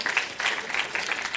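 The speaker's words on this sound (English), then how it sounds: "Yes, please applaud yourselves." An audience at Steam Dev Days, a game developer conference, claps together in a dense burst of steady applause.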